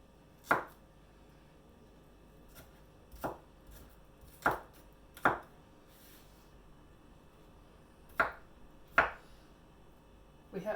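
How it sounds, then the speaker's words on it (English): Onion being chopped with a knife on a board, seven or eight sharp, distinct thuds spaced irregularly over a quiet room tone, close and fairly crisp, without speech. "making sure that some of your bigger bits are kind of chopped up the best that you can"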